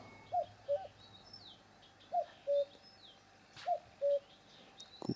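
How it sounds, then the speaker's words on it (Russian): A cuckoo calls its two-note coo three times at a steady pace during evening float fishing outdoors. The birdsong sounds moderately distant over faint background chirps and ambient hiss. "Кукушка кукует."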